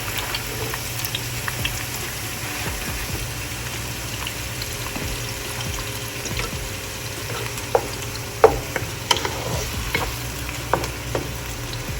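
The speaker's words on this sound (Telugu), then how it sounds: "సో నా ఇప్పుడు ఆయిల్ బాగా హీట్ అయిపోయింది. సో ఫస్ట్ ఆనియన్స్ వేసుకుందాం." Onions fry in hot oil with a steady, close sizzle and crackle, broken by occasional louder pops and stirring clicks, and nobody speaks.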